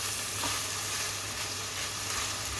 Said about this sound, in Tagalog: ilagay na natin ang ating garlic. Igisa na natin guys.